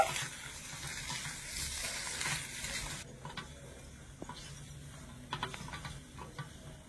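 A light oil-free snack gets stirred and mixed in a pan on a low flame, with quiet scraping and a faint sizzle, then scattered spoon clicks toward the end.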